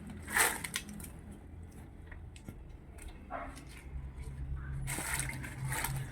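Produce, four kilos of it, is sloshed and rubbed by hand in a basin of water, giving intermittent splashing and crunchy rustling with a few louder bursts, close by and with no talking.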